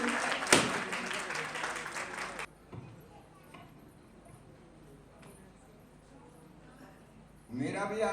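An audience at a patient testimony gathering breaks into a short burst of hearty clapping that lasts a couple of seconds, then the room goes quiet, with voices returning at the end.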